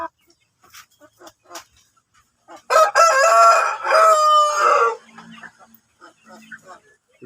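A Shamo hen gives a loud, drawn-out, harmonic call in two bursts lasting about two seconds, close to the microphone. Softer, scattered sounds come before and after it.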